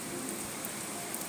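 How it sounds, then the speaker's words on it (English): Rain falls outside a window as a soft, even, continuous hiss of drops, faint and steady over a short stretch, with no voices. "It's raining here"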